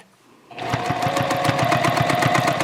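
Sewing machine stitching back and forth across a tote bag handle, starting after a brief quiet moment and then running in a close, rapid, even mechanical chatter.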